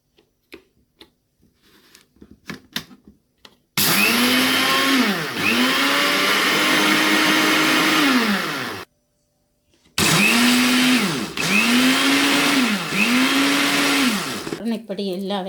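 A kitchen blender grinds rice and kurinja leaves in two loud, steady runs separated by a short pause, its motor pitch dipping and rising in rhythmic cycles; a few light clicks come before it starts.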